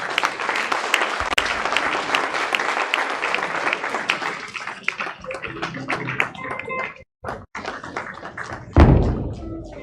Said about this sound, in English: A round of applause for Professor Live for sure.